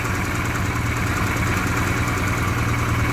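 A steady, low engine idle at about 1,000 rpm rumbles continuously, even and unchanging, close by with no voices.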